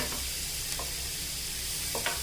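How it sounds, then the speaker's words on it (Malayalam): Grated carrot fries in ghee with a steady close sizzle, while a spoon scrapes the pan in a few brief stirring strokes. "നമ്മൾ ഗ്രേറ്റ് ചെയ്ത് വെച്ചിരിക്കുന്ന ക്യാരറ്റ് ഇട്ട് കൊടുക്കാം"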